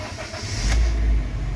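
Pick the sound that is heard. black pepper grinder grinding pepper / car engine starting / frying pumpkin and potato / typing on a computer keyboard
car engine starting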